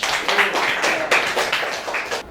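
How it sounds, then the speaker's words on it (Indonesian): Applause from a small group of people, such as a class or prayer gathering, with scattered, uneven claps of moderate loudness lasting a couple of seconds. "Tepuk tangan untuk Mas."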